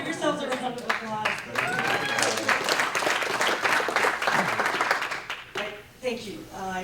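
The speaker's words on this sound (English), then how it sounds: "Give yourselves a round of applause." Applause from a crowd at a California Occupy movement progressive caucus meeting, steady clapping across the whole stretch with voices and cheers mixed in, tapering toward the end.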